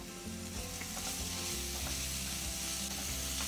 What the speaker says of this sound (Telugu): పండు మిర్చి పేస్ట్తో పాటు కొంచెం కారం ఆ కలర్ కోసం వేసి ఇప్పుడు బాగా కలపండి